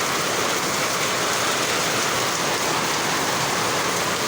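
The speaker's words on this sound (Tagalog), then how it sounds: "Yan o, kusog ang ulan guys." Heavy rain pours steadily, a dense continuous hiss of water drumming on surfaces, loud and close with no pauses.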